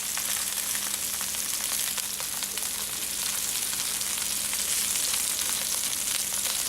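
Vegetables and mushrooms sauté in a flat-bottom skillet with a steady, dense sizzle and occasional crackles, close and even, with no voices.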